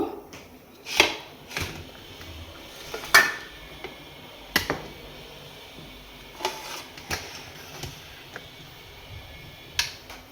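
A pressure cooker is set on a stove and handled, giving a scattered series of sharp metallic clanks and knocks at irregular intervals, loud and close, with quiet room tone between them.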